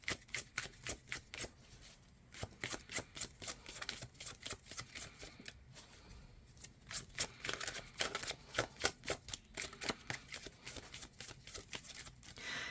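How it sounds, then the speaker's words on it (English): Tarot cards being shuffled by hand, a quiet close riffle of rapid crisp card flicks in repeated bursts with short pauses between them, no talking. "one of my favorite parts is shuffling, watching my favorite tarot readers shuffle"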